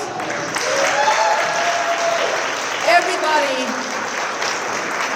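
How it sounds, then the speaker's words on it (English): A panel audience at a women-in-AI conference applauds in a steady, fairly even wash of clapping that holds for the whole stretch, with a few voices faintly mixed in. "Please give a round of applause."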